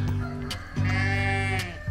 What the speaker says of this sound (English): grab the baby, and hopefully the mom will follow, and then we can get in the barn.